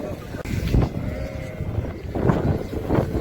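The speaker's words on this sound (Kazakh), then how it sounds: "Мына қозылық қойлар жас әдемі." Sheep, ewes with young lambs, bleat repeatedly at the Karabulak livestock market amid a dense, noisy crowd murmur.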